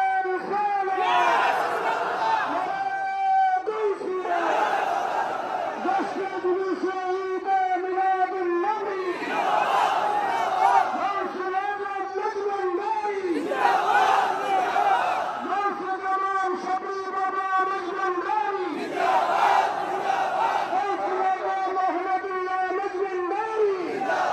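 A large crowd at an Eid-e-Miladunnabi gathering at Maizbhandar Sharif roars a chanted reply in repeated loud waves after a leader's Naraye Takbir call, voices massed and echoing over a PA.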